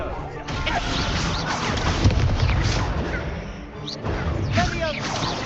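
Descendo slam spell impacts in Hogwarts Legacy, crashing and thudding amid continuous loud combat noise with voices and effects layered throughout a busy battle.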